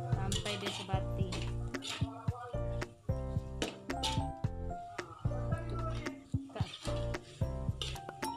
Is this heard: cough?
no